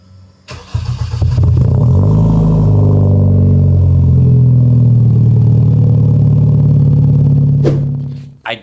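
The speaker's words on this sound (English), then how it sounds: "so you guys could hear how the exhaust sounds." A Kia car with an aftermarket exhaust starts with a sharp burst, then settles into a loud, steady, deep exhaust drone for several seconds that cuts off abruptly near the end, recorded up close.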